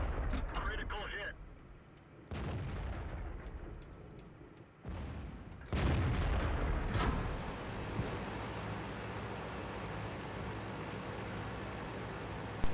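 A tank cannon fires in a tank video game, with sharp broadband blasts near the start and again around the middle. Engine rumble and battle noise run underneath throughout.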